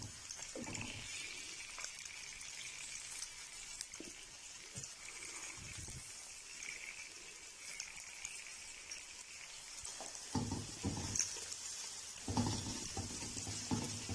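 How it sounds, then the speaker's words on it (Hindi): Carrots and peas frying in a pan, a faint continuous sizzle with intermittent soft stirring scrapes that grow a little louder toward the end, no talking. "और ये गाजर और मटर भून रहे हैं"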